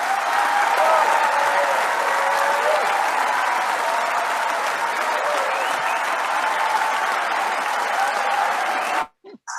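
Recorded audience applause, a dense, steady wash of many clapping hands that holds at an even level for about nine seconds before stopping abruptly.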